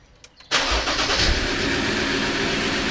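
A Ford car engine cranks briefly, then catches and settles into a steady, slightly rough idle, heard close and loud with no talking.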